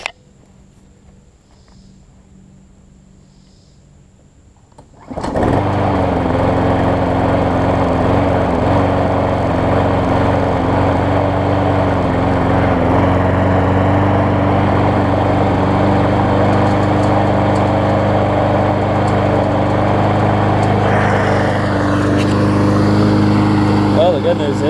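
A Troy-Bilt TB360 lawn mower with a freshly cleaned carburetor and spark plug starts abruptly after a few seconds of quiet, then runs at a steady, loud, droning idle that holds for the rest of the clip.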